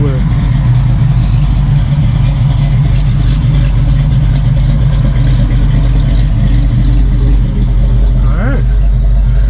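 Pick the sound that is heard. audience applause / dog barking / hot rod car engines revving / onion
hot rod car engines revving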